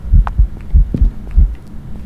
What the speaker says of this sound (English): I hate the heartbeat sound effect.